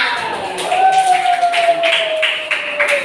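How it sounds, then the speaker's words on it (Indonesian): An audience at an Indonesian group event breaks into clapping: a loud, continuous patter of many hands nearby, with a faint tone and murmur running beneath. "Tepuk tangan dulu untuk semuanya"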